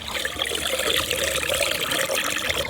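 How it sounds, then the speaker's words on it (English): Dirty fish tank water gushes and swirls down a drain in a continuous, loud, splashy stream with bubbling and trickling throughout. "Just mix all this up so it goes down the drain."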